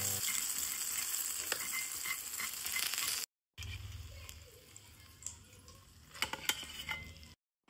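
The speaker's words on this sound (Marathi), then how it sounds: "मस्त असा क्रिस्पी फ्राय मासा झालेला आहे," Fish frying crisply in a pan, a steady loud sizzle and crackle with stirring clatter, briefly cut off and resuming softer with occasional sharp pops.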